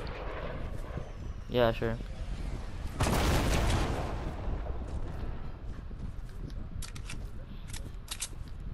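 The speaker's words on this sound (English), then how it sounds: "That was an explosion." A Fortnite explosion bursts as a loud broadband blast that swells and fades over about a second, with sharper clicks and game effects scattered around it and brief speech nearby.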